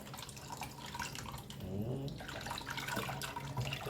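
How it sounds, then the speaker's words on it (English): Thick ragi flour mixture poured slowly into a cooking pot, a steady liquid pour with soft splashing and trickling that swells midway, close and continuous with no talk. "And I'm going to slowly pour inside."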